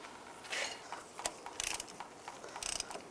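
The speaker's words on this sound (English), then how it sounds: "And snug that up. And you want to torque this to 40 foot-pounds." Ratchet clicking while a bolt is snugged down on the rear brake caliper of a 2001-2008 Chevy Trailblazer, with quiet bursts of rapid ticks and a few metallic knocks, heard up close.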